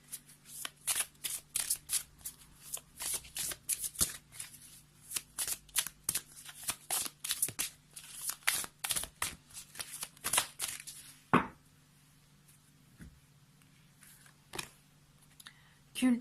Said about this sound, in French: on va prendre une carte des licornes magiques de Dorine Virtue pour voir si on peut avoir un petit conseil par rapport à ça.